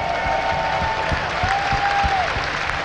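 Steady applause from a crowd, a dense continuous patter of clapping with a few sharper claps standing out.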